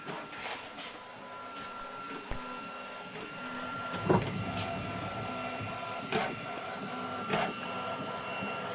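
A large-format printer runs steadily with a mechanical racket, a continuous whirring drone broken by periodic louder clunks and carriage thumps around it.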